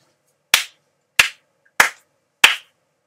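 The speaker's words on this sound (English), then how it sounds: "I'm glad you clapped loud enough that the camera picked it up" Four sharp, loud hand claps ring out alone in a quiet room during a LittleBigPlanet 3 gaming session, evenly spaced about two-thirds of a second apart, each with a short decay.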